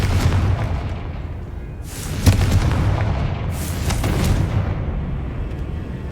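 Fire spell explosions cast in Hogwarts Legacy, a loud booming blast with a sharp crack near the middle and a second rolling burst later over constant game rumble.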